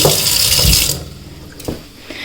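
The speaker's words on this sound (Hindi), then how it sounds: "नो थोड़ा सा पानी डालना पड़ेगा। Let's have some water." Water from a kitchen tap pours into a cooking pan, gushing loudly and close for about a second before cutting off, followed by a quiet clink.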